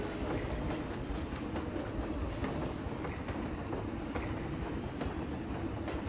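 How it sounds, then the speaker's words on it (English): A train runs steadily along its tracks in the video game Planet Coaster, giving a continuous close rumble with a rhythmic clickety-clack of wheels on rail joints throughout. "Wow, it's just like a real train"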